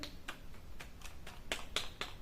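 Soft palm claps imitating rain in a light, irregular patter like raindrops, about nine quiet taps spread over a couple of seconds, in a children's music lesson.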